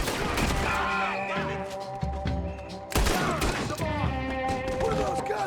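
Gunfire rings out in the video game Red Dead Redemption 2, a rapid fusillade of sharp shots layered over game music and voices, dipping briefly before another burst.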